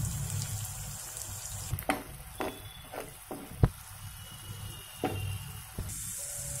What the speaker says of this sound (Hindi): इस पेस्ट को अच्छी तरह भूनना पड़ेगा